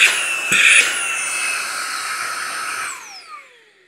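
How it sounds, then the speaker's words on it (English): A Hoto Autocare vacuum, part of an air duster and vacuum combo, clicks on and holds a loud, steady high-pitched motor whine, then winds down with a falling pitch as it switches off. "That's how the vacuum works."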